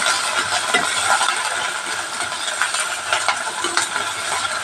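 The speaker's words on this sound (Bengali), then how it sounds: "আমি একটা টমেটো দিয়ে দিলাম টমেটোটা দিয়ে একটু নাড়চার করবো" Tomato and onion sizzle in a frying pan while being stirred, a steady close hiss with scattered scraping clinks, no talking.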